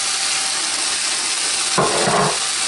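Persillade hits a hot pan of homemade chicken curry, raising a steady close sizzle that swells briefly as it lands and is stirred in.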